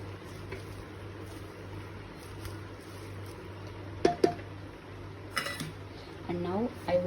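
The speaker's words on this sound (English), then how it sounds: "I've added salt and then the tomatoes, and then just stirring it." Salt and tomatoes stirred in a pan for sai bhaji, quiet background hum broken by a few clinking and scraping utensil knocks against the pan later on, with a voice briefly audible.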